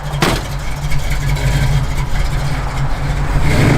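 A 1963 Ford Falcon Futura engine revving up from idle, a loud, close, deep rumble that builds steadily in intensity, with no talk over it.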